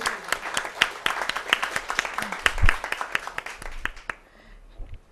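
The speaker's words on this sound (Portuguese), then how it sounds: "Ele merece palmas" A small audience at a talk gives scattered, uneven applause, distinct individual claps close by that thin out and stop near the end, with some voices around.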